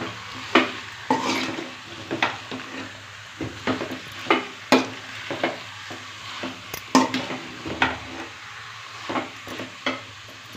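Pallipalayam chicken, half a kilo cut up with masala, gets stirred in a pan, spoon scraping in irregular strokes over a low sizzle, close and fairly loud with no one talking.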